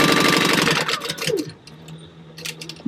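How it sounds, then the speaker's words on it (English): A sewing machine stitching a crossbow bag, a loud, fast rhythmic run of stitches for about a second and a half that then stops, leaving faint handling noise. "holding on to my thread when I start sewing"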